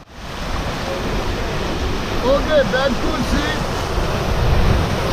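River water rushes and splashes around a raft on the Beas river at Manali, a continuous loud roar mixed with wind buffeting the microphone, with faint voices in the background.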